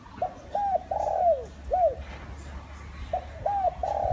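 A decoy dove coos in short, repeated phrases with brief pauses between them, fairly close, over a faint low background rumble.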